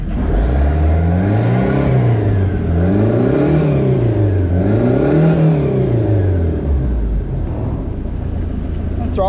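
An old dive boat's engine idling with no load and being revved, its steady rumble rising and falling in three smooth swells before settling back to a loud, close idle.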